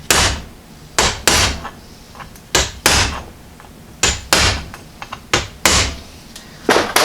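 Steel chisel struck with a hammer against a car oil filter from a Model A hot rod coupe, sharp metallic impacts landing singly and in quick pairs, about a dozen hits, close and loud with no talking.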